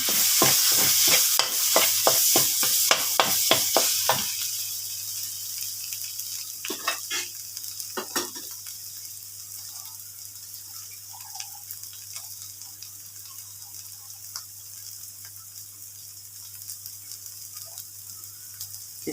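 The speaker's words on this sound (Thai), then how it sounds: "เอาพริกไปผัดกับ น้ำมันนิดนึงให้มันหอม" Chili paste stir-fried in a little oil, with quick rapid scrapes and a loud sizzle at first, then a few scattered stirs and a faint low sizzle in a quiet kitchen.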